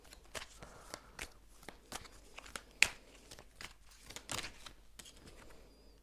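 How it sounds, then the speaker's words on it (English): A deck of cards is shuffled close by in a quick series of soft riffling and snapping bursts, irregularly spaced and fairly quiet, with one sharper flick in the middle. "I'm gonna shuffle"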